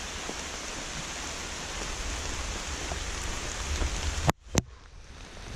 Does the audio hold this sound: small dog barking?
no